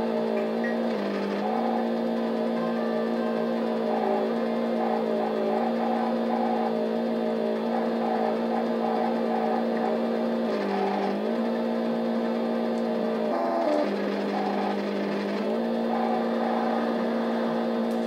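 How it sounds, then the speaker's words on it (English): A steady, high-revving Formula One car engine from the Famicom Disk System game Famicom Grand Prix: F-1 Race drones continuously, with brief dips and shifts in pitch as gears change, loud and without talk. "The engine noise is quite nice, but kind of irritating as well"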